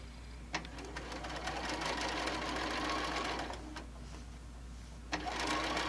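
Sewing machine stitching an apron panel, a steady close mechanical whir with a low hum beneath and a few sharp clicks as the stitching starts and stops.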